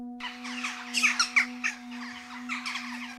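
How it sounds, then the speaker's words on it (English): A jackdaw gives a series of short, harsh squawking calls, several in quick bursts and then a pause, clear and fairly close over a steady low electrical hum. "A jackdaw gets its interesting name from its call."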